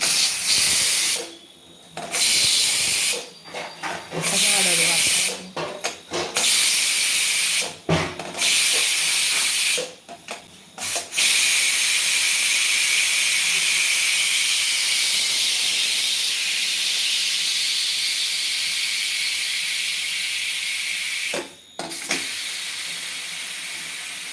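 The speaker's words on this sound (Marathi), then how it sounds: "कुकरची वाफ काढून झाली" A home pressure cooker vents steam in a loud, continuous hiss, broken by a few short pauses early on before it hisses steadily to the end.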